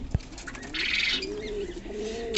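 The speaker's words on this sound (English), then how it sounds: "now I'm going to show you this second baby of black and white color fantails" Baby black and white fantail pigeons coo softly in a loft, low rolling calls repeating close by alongside a brief burst of rustling or flapping.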